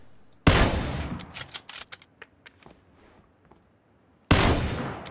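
Gunfire in PUBG during a squad fight: two loud, sharp shots about four seconds apart, with a scatter of fainter, more distant pops and rattles in between.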